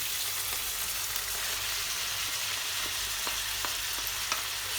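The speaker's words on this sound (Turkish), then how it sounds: "Kıymayı biraz kavurduktan sonra fazla kurumadan" Half a kilo of ground beef sizzles and crackles steadily in a pan, a dense close hiss with a few sharper ticks of stirring, no voices.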